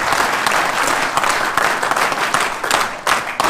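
Crowd applause at an Indian village gathering, loud and close, with individual claps standing out in the dense clapping before it thins slightly at the end.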